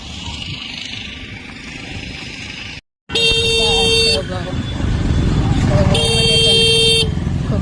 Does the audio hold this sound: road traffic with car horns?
yes